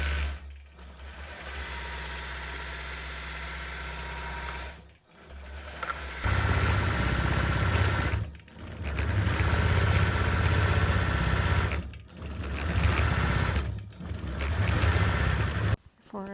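A Gammill longarm quilting machine stitching an edge-to-edge pattern across a customer quilt, a steady loud mechanical whir in long continuous runs broken by several brief pauses.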